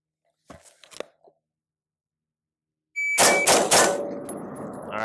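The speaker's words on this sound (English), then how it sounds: "We're gonna do a 3-shot group." Three sharp shots fired close together from a gun fitted with a Timney DH3 trigger at a shooting range, loud and punchy with ringing decay, preceded by a few faint knocks and handling noises.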